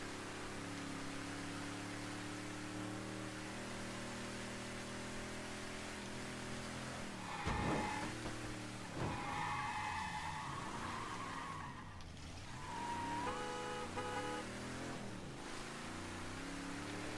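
A car in the Mafia 3 video game drives with a humming engine note, then tires squeal in several sliding skids with sweeping pitch, fairly loud and without talk.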